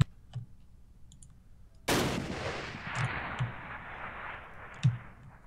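Video game gunfire from a shooter played with a mod pack, heard as one sharp shot and then a long echoing rumble, with a few quieter clicks and pops following.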